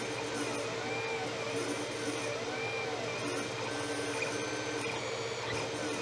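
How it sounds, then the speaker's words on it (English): A 3D printer builds the input shaft for a vane pump, its stepper motors whining and buzzing steadily and close by, with no break and no voices. "It's now printing the input shaft."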